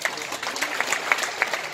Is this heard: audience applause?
yes